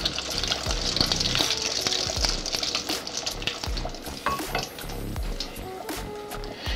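Pâte kòde dough frying submerged in deep hot oil, giving a dense, continuous sizzle and crackle with sharp pops and occasional stirring scrapes, close and fairly loud throughout.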